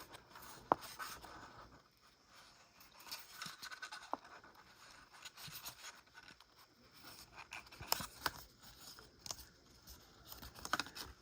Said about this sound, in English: we're going to fold these tabs over for the bottom of our box